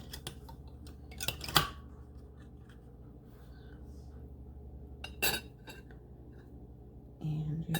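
Blue pickled eggs are sliced, giving a few sharp, close cutting clicks and clinks spread across a mostly quiet stretch.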